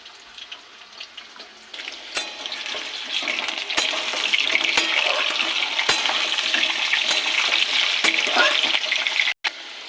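Potatoes frying in hot oil, a dense continuous sizzle and crackle close up, loud and steady with occasional stirring clicks and spoon knocks, no voices.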